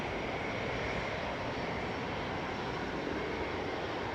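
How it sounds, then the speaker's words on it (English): A TUI Boeing 737-800 departing Manchester Airport, a continuous, broad jet roar at steady loudness that fills the whole stretch, heard from some distance with no talking. "That was TUI flight 850 to Enfida, just departed in front of us there."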